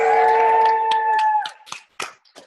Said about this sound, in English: So let's clap it up one more time for me.